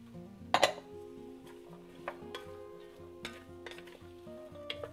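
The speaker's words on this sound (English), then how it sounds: "I'm gonna just saute those for a few minutes, let them get soft." Onions, celery and carrots sauté quietly in a hot pan, a soft steady sizzle broken by a few sharp clinks of a utensil against the pan.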